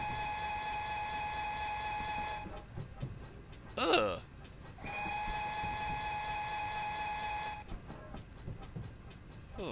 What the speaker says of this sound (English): Let's have a listen to the new whistle,